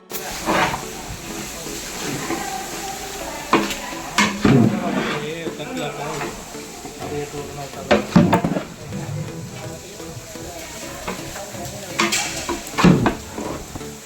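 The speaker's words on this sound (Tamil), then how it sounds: "கம கமன் மீன் பொரிக்கிறோம், திங்குறோம் ருசியாக" Oil sizzles steadily in a pan as fish fries, with occasional clanks of utensils and people talking over the hiss.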